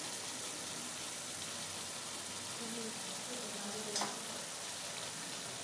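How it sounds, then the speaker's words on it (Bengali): Mutton kosha with potatoes fries with cumin, coriander and Kashmiri red chilli powder in a pan, a steady soft hiss and sizzle, with one brief clink of stirring near the end. "দিয়ে এবারে ভালো করে কষে নেব আরও কিছুক্ষণ।"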